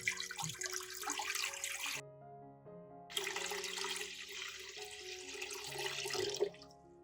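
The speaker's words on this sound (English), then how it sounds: "Pour water into a pot." Water runs steadily from a tap into a cooking pot, pausing briefly, then gushing again with a hollow filling tone, close and fairly loud.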